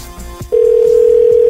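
A telephone ringing tone during a prank call cuts in abruptly after a brief muffled stretch, then holds as one loud, sustained, unbroken tone to the end.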